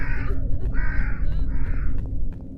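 Three harsh, close crow caws in the PC video game Crow, spaced at a steady rhythm over a low, constant background rumble with a few clicks.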